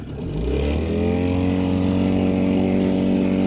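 A Tohatsu 9.8 outboard motor on an inflatable boat, fitted with a Solas propeller of pitch 7, runs up to full throttle, its steady harmonic drone climbing quickly and then holding loud and close.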